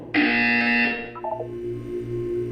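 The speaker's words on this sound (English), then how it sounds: "When you hear the buzzer, look down at the floor." A loud electronic buzzer tone in the video game Portal 2 sounds once for almost a second, then cuts off, followed by a few short blips over a low background hum.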